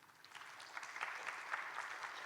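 A room of first-year international students at an orientation session claps together, a soft, distant patter of many hands that builds slightly and holds steady.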